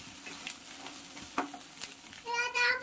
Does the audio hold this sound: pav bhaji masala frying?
yes